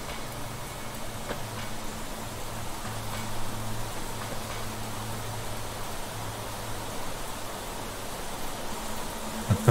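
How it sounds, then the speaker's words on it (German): Steady rain falls in the survival game The Planet Crafter, a constant soft hiss with faint ticking drops. Low droning tones sit underneath, and no one speaks. "es hört sich so an, als wäre der Regen direkt neben mir"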